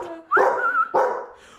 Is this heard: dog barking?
yes